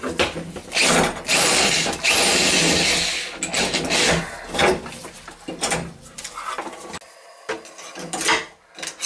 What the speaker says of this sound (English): pretty bad when you gotta drill it out.